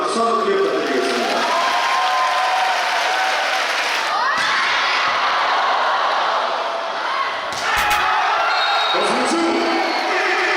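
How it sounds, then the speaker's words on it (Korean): Crowd at a volleyball match applauding and cheering loudly for a player, a dense continuous roar with whoops, mixed with talk over it. "정호영 선수에게도 응원의 박수 한번 크게 부탁드리겠습니다"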